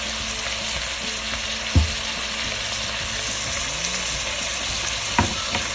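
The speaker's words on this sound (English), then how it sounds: "I'm just going to mix that all up in here." Kielbasa hash with garlic powder and spices stirred in oil in a pan, giving a steady close sizzle and frying hiss with a couple of soft utensil knocks, no voices.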